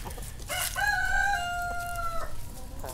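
A rooster crows nearby with a long, rising-then-falling call, backed by soft clucking from other chickens; no talking.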